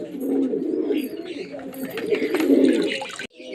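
Pigeons coo steadily and close while being handled and bathed in cold water, a continuous low burbling that ends abruptly.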